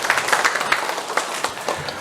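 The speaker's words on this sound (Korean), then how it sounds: "교사들을 위해서 격려의 박수를 보내드리겠습니다" A church congregation claps for its teachers during a Sunday worship service, a dense burst of many hands applauding at close range for about two seconds.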